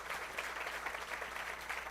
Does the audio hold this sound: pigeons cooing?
no